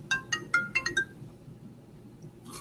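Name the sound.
phone ringtone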